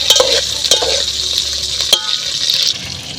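Curry being stirred in a pan in a village kitchen, a steady close sizzle with scraping strokes of the spoon and a few sharp knocks against the pan, fading slightly near the end.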